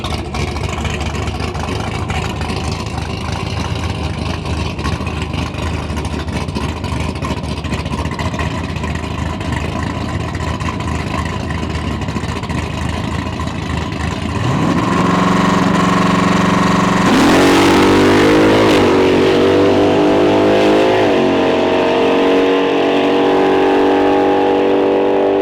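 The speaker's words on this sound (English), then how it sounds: "Another beautiful nostalgia super stock car." A nostalgia super stock drag racing car at Santa Pod idles with a loud, rough, rumbling engine, then revs hard and climbs in pitch as it accelerates, a powerful roar close by.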